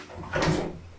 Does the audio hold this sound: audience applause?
no